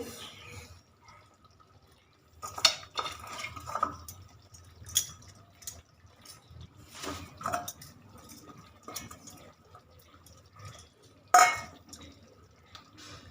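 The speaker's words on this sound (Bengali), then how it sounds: "হালকা করে একবার মিশিয়ে দেখুন" Fish curry topped with coriander leaves is stirred gently in a pan, giving quiet, scattered scrapes and light metallic clinks close by, with brief louder knocks.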